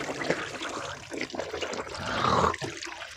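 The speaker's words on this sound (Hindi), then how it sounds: "थोड़ी टूटी खोलें जितना ज़रूरत है पानी" Water runs from a partly opened tap during ritual ablution, an uneven splashing trickle with hands moving through the stream, close by and moderately loud, with no speech.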